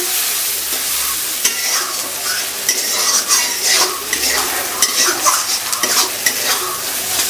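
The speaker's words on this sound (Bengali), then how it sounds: "এখন চলে গেল 4টে গোটা শুকনো লঙ্কা, 4-5টা।" Four or five whole dried red chillies frying in hot oil in a pan, with a loud, steady sizzle and occasional clinks of a spatula stirring them, close up and with no voices.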